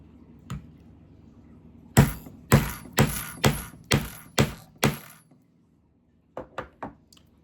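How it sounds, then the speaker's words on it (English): A hammer strikes a metal setting tool while a leather chain link purse strap is assembled, giving seven sharp, evenly spaced, ringing impacts, a short pause, then three lighter taps, close and alone. "And you hit it with the hammer."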